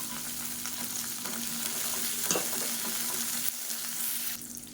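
Ten small onions and four garlic cloves sauté in a pan, giving a loud, continuous close sizzle with stirring scrapes throughout and no voices.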